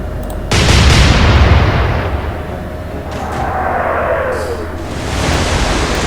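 Heavy warship guns fire in the Atlantic Fleet naval video game, a deep booming blast at the start that rolls out into a long rumbling decay, followed by a softer distant thud and a faint whistling shell.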